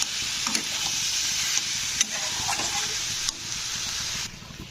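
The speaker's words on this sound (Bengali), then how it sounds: "আলুগুলোও কিন্তু কষতে হবে তো মিনিমাম দু থেকে তিন মিনিট কষে নিতে হবে" Two large boiled potatoes being sautéed in a pan for Kerala-style veg cutlets, a continuous close sizzle with a few scraping stirs of the spoon, fairly loud and free of talk.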